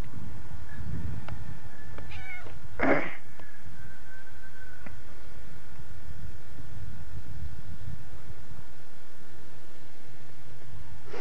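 A cat meows once, short and fairly close, over the steady hiss of an old home VHS recording, with a few faint clicks before it and a thin tone lingering after.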